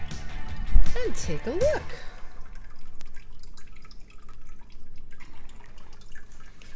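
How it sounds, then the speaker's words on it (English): Clean water poured into a groundwater model and dripping through fractured bedrock, a short trickle and drips in the first two seconds, then faint wet ambience while someone talks. "Now I'm going to chase it with a little bit of clean water"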